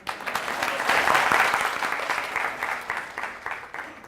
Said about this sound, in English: a round of applause for me as well.